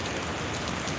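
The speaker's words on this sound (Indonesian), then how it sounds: "Di sini lagi hujan, aduh." Steady rain pours down in Sorong, Papua on an afternoon, a dense, even hiss of drops on surfaces, loud and continuous with no talking.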